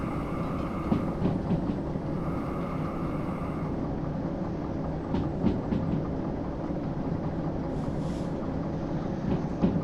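Train in the video game Derail Valley rolling down a grade under train brake, a steady loud rumble of wheels and rail noise with occasional clanks, no talking.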